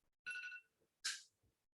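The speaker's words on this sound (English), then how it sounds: "that's my phone telling me that it's break time." Two short bursts of a mobile phone alarm going off to signal break time: a bright, tonal electronic chime with stacked harmonics, then a second, noisier burst, fairly quiet with silence between.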